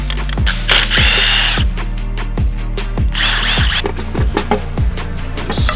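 Power tool, likely an impact wrench, tearing down a JDM imported Honda K24 engine, firing in repeated short bursts about every half second, loud and close, with ratcheting mechanical clatter and scraping between bursts.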